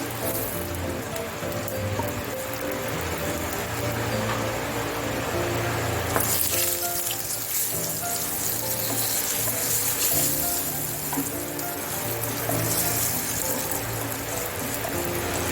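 Dried red chillies frying in hot oil with ginger and curry leaves, a continuous fine crackling sizzle, steady and close, with a low background hum beneath.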